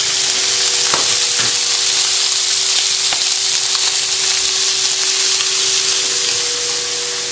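Sausage sizzling and frying in a pan on a stovetop burner set to full, a loud, steady hiss of spitting fat with occasional crackles and pops.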